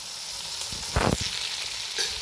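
Radish pieces sizzle in a hot pan with an even, crackling fry, and a brief louder hiss rises about midway as the pieces are stirred.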